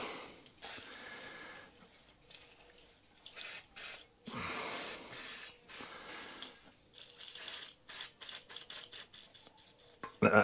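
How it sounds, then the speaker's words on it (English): WD-40 sprays onto a lawnmower pull cord in a series of close, hissing bursts, first longer squirts and then quick short pulses. "I'm going to back that up with a bit of WD-40 spray for now."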